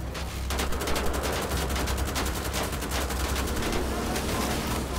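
Sustained automatic gunfire in the video game Wolfenstein The Old Blood, a rapid, dense stream of loud shots rattling continuously with steady rhythm and no pauses.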